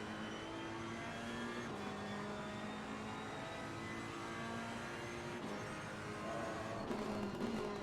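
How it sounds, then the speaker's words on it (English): Onboard a Ferrari race car at Misano rounding turn 16 toward the start-finish line, the engine drones loud and steady with gear changes and rising revs throughout, no voices. "Let's ride on board with the Ferrari as they approach the start-finish line going around turn 16."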